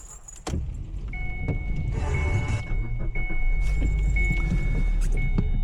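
A 2014 Kia Ceed 1.6 hatchback at the start of a test drive, with a click, a buzzing power window or motor whirr, and a steady cabin engine hum underneath, close and fairly loud, with no talk.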